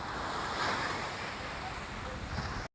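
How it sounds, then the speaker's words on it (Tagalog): Steady, rushing wind blows hard across the microphone for a few seconds outdoors, a broad continuous whoosh with no voices. "lumalakas-lakas ang hangin"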